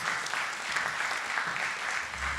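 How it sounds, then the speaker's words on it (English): Applause for honorees and graduates at a university proclamation ceremony, a steady dense wash of many hands clapping at moderate distance, continuous and even throughout. "Let's give another round of applause to all of our honorees, graduates, the pioneers"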